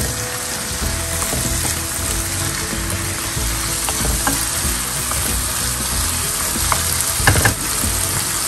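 Whole cinnamon stick, cloves and black peppercorns sizzle in hot oil for an asparagus rice pulao, giving a steady, close, crackling fry that runs unbroken with a few sharper pops.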